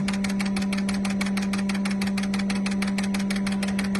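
Engine idling with one cylinder misfiring from a dead injector, a steady rapid pulsing rhythm with a constant low drone, close and even throughout.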